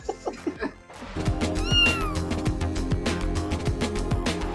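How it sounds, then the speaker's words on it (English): A real house cat voiced in the video game Stray gives a short run of close, clear meows, one rising into a drawn-out wail, over soft background music. "That sound is actually one of the creators' cats that inspired the game."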